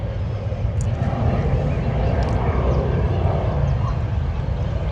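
A plane drones overhead in a park in central Buenos Aires, a steady broad roar swelling slightly and holding loud over outdoor ambience with faint chirps.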